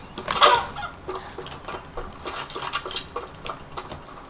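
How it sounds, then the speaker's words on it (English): A chicken in the shooter game Counter-Strike: Global Offensive gives several short clucks in uneven bursts, fairly close and moderately loud, with small clicking game sounds around it and no talking. "How the fuck is a chicken an enemy?"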